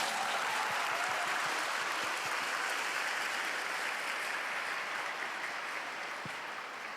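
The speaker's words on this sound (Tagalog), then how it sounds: "Ang gustong dalhin dito ang Nazareno, pumalakpak ng mas malakas." A large crowd applauds at a rosary mass rally for peace held by the Diocese of Balanga, Bataan. The clapping is loud, dense and continuous for about seven seconds, easing slightly toward the end, with no talk over it.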